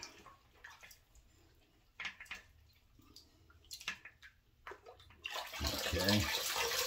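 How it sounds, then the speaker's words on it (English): A washcloth is rinsed in water during a wet shave, with scattered drips and splashes building into loud, close sloshing and swishing near the end. "let me rinse out my washcloth now."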